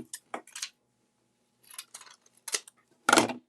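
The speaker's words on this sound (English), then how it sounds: "I'm just going to use this and then cut it here." Scissors snip through craft material for a Valentine project, several short crisp cuts in separate bursts, close and clear with no talking.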